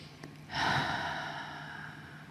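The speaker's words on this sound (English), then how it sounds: "Inhaling, exhaling." A slow, deep breath during a guided meditation, with a soft inhalation swelling after a brief pause and then tapering into a long, steady exhale, close and gentle with no talking.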